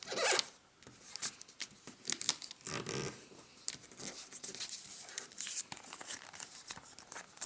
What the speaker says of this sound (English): we're going to fold it in half once diagonally and then fold it in half again into a smaller triangle